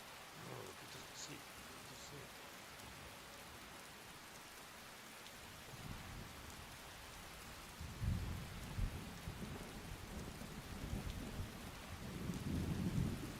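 Steady rainfall in the Falkreath area of the video game Skyrim, with low thunder rolling in twice in the second half, all fairly faint and continuous with no voices.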